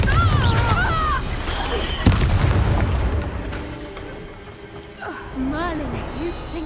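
A fiery Confringo spell blast in the video game Hogwarts Legacy bursts out with a sharp boom about two seconds in, set in a busy game soundscape with a spoken voice and other effects around it.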